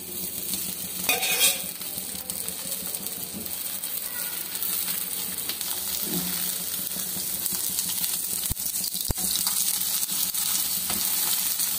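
A rice flour roti fries in oil on a pan with a constant sizzle, with occasional scrapes and clinks of a utensil against the pan.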